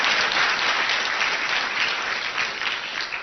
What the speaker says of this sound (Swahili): Tafadhali tupige makofi ya SG.